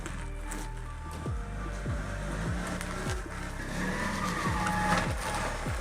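BMW E46 drift car with a welded differential, its engine revving hard in repeated rising and falling bursts, with tire squeal through the loud, close, continuous engine roar.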